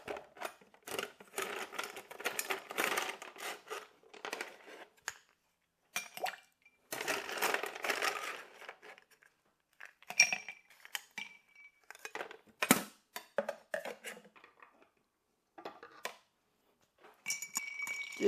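Ice cubes clink and rattle into a glass for a maple bourbon martini, with bursts of clattering, then quieter gaps and a few sharp single clinks near the end.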